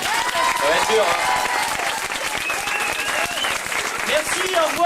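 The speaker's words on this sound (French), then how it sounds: "On applaudit Pierre, s'il vous plaît" A crowd applauds steadily at a Marseille venue, a dense, continuous patter of clapping that fills the room, with occasional voices and cheers rising faintly above it.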